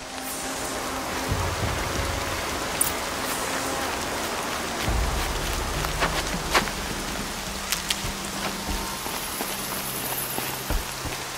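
Rain in the video game Horizon Zero Dawn patters over a continuous hiss, with scattered sharper drops and a few thumps and knocks scattered throughout.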